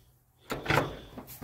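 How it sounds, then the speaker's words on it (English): An older fire truck's cab door swings shut with a soft thud and a brief rattle and latch click close by, after a quiet moment. "Look how easy these doors shut."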